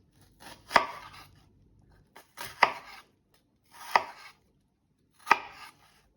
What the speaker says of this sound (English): we're going to make close cuts down the length of the onion